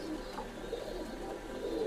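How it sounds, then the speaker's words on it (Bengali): Imported Oman Teddy pigeon, a 128 male, giving a soft, faint low coo close by in a quiet loft, with no voices. "এটা উস্তাদ ফয়সালের কবুতর"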